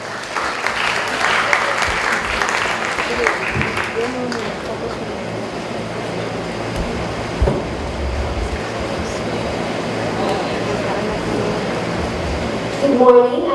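An audience at a student colloquium gives long, continuous applause as a broad, steady wash of clapping that lasts throughout, with a voice briefly heard near the end.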